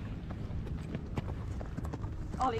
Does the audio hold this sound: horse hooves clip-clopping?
yes